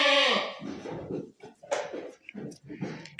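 A doe goat named Rhoda, newly brought into a barn, lets out one loud, close, wavering bleat at the start. Someone then talks over soft background noise.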